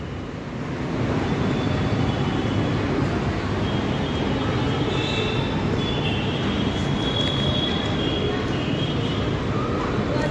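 Ramwadi metro station ambience: a loud, steady broadband rumble and roar of a train or station machinery fills the whole stretch after a quieter first second, with no clear voices.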